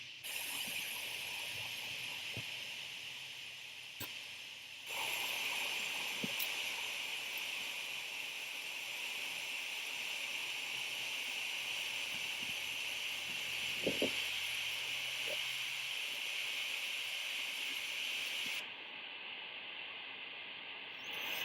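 A distant waterfall rushes as a steady broadband roar, constant and fairly faint, with a few small knocks and rustles nearby.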